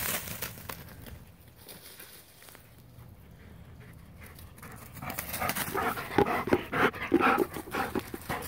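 A dog pants steadily at close range during a training session of sit and stay commands, the breathing growing louder and more rapid in the second half with faint rustling and crinkling around it.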